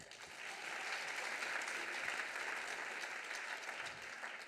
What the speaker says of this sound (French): Un grand merci aux 5 étudiantes pour leur travail, on peut les applaudir.